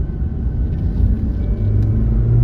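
A 1996 JDM Toyota Celica with the non-turbo 2-liter engine drives along, giving a low, steady engine rumble that swells slightly toward the end, with no talking.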